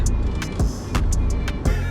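A BMW X3 drives along with steady road and engine noise close by. A few faint clicks and ticks sound over the hum, with no voices.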